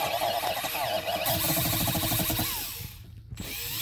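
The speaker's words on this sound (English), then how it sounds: "using a whiz wheel, we're just going to take this area" A whiz wheel grinds the underside of a car tire, cleaning the inner surface around the damage before a patch goes on. A loud, continuous buzzing drone holds for about three seconds, drops out briefly, then starts again.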